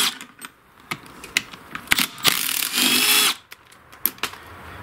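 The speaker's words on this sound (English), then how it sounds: "Now to remove the carburetor, I'll get these two bolts out." A 10mm socket backs out the two carburetor bolts on a wood splitter engine, giving short ratcheting clicks and a sustained mechanical whir from about 2.3 to 3.3 seconds, close and fairly loud with no talking.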